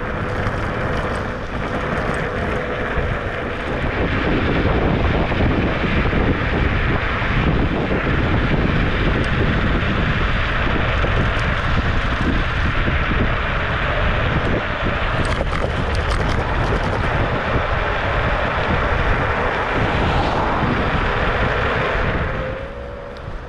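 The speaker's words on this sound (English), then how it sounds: "That's in single motor mode now. That's full throttle, that is speed 3." A Kaabo Mantis electric scooter runs at full throttle in single motor mode over a rough, broken road, with a loud, steady rush of wind and drive noise that holds for nearly the whole ride.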